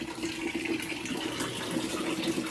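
Water pours in a steady, continuous rushing stream at a rural Punjab dairy farm, a constant hiss heard up close with no voices.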